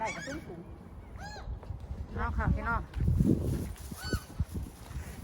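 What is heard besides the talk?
geese honking while being fed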